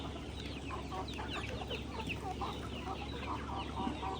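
Chickens on a small backyard farm clucking and murmuring in a low, continuous chorus, fairly faint and softly layered over steady background noise.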